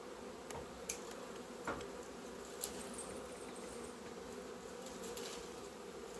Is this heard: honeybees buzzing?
yes